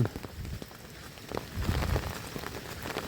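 Heavy rain pours onto a sprouting rice field, making a faint, steady patter and splash with scattered drop hits throughout.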